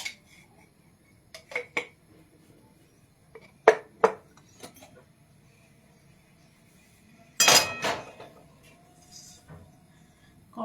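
A spoon clinks and scrapes against a metal kadai while paneer and oil are stirred, making sparse, sharp metallic taps in short clusters over a quiet background.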